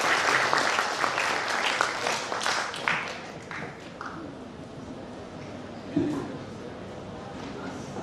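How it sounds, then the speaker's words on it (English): Audience applause at a seminar session, a dense burst of clapping that is loudest at the start and tapers off over several seconds, with a thud partway through and a faint room murmur afterwards. "So, another big applause please for our team."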